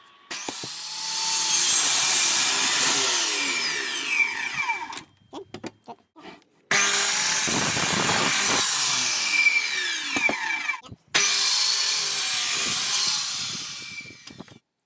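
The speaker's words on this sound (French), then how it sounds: "J'ai effectué toutes ces coupes à l'aide d'une scie à onglet" Loud, sustained miter saw cutting through wood in three long passes, each with a high whine, separated by short pauses with a few knocks.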